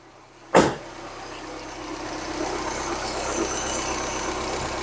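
A Ford Sierra Cosworth 3-door engine runs steadily after a sharp start, a continuous mid-pitched idle with a faint lifter tick in the mechanical noise, close up and fairly loud.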